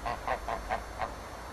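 A goose honks five times in quick succession, fairly close and clear, each call short and nasal, then falls quiet over a low background.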